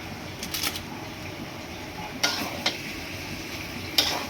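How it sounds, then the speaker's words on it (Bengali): Pasta noodles with spices are stirred in a pan with a utensil, giving a few sharp scraping clicks spaced apart over a quiet kitchen background. "এখন এটা একটু নাড়া দাও।"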